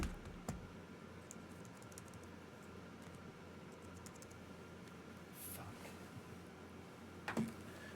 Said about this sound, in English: Forced to use the keyboard.